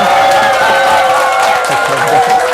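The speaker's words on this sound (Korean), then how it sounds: "오늘의 특급 강사 구준모 상무님을 큰 박수로 모시겠습니다." An audience claps and cheers to welcome a guest lecturer at a trading seminar, a full, continuous burst of crowd applause close to the microphone with voices mixed into it.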